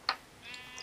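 A sheep in the video game Minecraft gives one short, bright bleat close by, followed by faint game tones.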